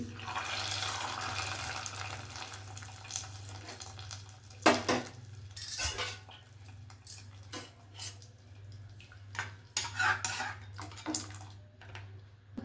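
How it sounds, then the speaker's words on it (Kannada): Spices being tempered in a pan for small onion sambar: sizzling mixed with clinks and scrapes of utensils on metal, with a steady low hum running underneath and no talk. "ಇವಾಗ ಇದಕ್ಕೆ ಇನ್ನೊಂದು ಸಲ ಒಗ್ಗರಣೆ ಹಾಕ್ಕೊಳ್ತಾ ಇದ್ದೀನಿ ನೋಡಿ."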